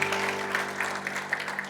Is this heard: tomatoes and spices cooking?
no